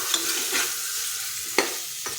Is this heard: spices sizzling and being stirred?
yes